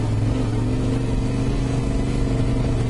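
Yamaha T700 motorcycle carrying two riders, putting along in first gear: a steady, low mid-range engine drone with wind rush, loud and close throughout with no voices.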